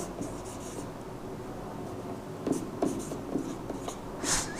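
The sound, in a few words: writing math solution by hand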